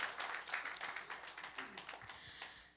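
A church congregation claps hands together in dense, continuous applause that stays fairly steady, then thins slightly toward the end, with a faint murmur of voices underneath.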